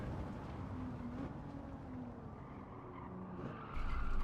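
Race car tires skid and squeal under hard braking in a racing video game, a steady engine and tire roar with a short rising squeal, close and loud, with no talk over it.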